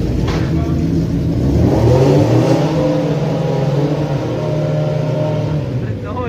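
A mini truck powered by two motors revs hard and loud, the engine note rising and falling in sustained pulls close by, with voices talking over the roar.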